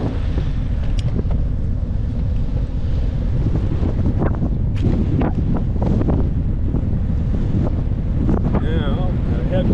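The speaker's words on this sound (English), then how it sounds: "So I guess what I should say is the wind is all over the place today." Strong, steady wind buffets and roars across an outdoor microphone on a ride heading almost due east, filling the whole stretch with low rumbling gusts and no speech.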